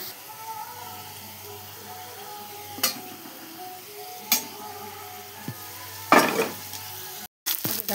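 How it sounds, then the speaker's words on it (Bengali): Fish curry masala with fried fish and potato sautéing in a pan for a fish jhol, a low steady sizzle punctuated by a few sharp spatula clinks and one louder scraping stir, no one speaking. "দেখো সব মশলার সাথে কষিয়ে নিচ্ছি"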